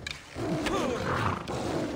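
A lion in the video game Assassin's Creed Odyssey roars in a sustained, rumbling growl lasting about two seconds, loud and close with game ambience behind it.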